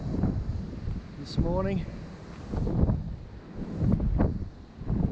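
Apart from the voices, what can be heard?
strong wind on a mountain ridge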